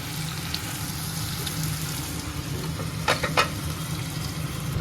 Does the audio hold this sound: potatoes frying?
yes